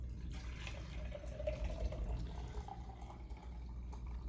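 Water is poured into a pot to melt and clean leftover candle wax, a soft, close trickle and gentle splashing over a low background hum.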